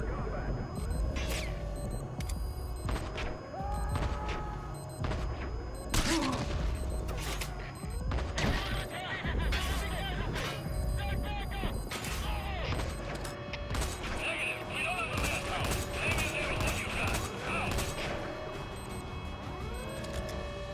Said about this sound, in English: I love it when like 40 of them shoot me at once.